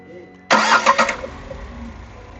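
A 2020 Tata Tiago XT's engine cranks and fires, a sharp loud starter burst settling quickly into a smooth, quiet idle.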